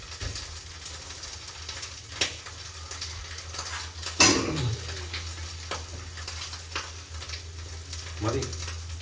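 Food frying and browning in a pan, a soft continuous sizzle with occasional clinks of utensils and cookware, moderately quiet and close.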